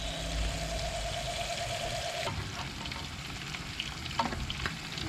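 Freshly caught squid rings sizzle in a hot pan, a steady frying crackle with faint stirring and scraping sounds toward the end and no voices.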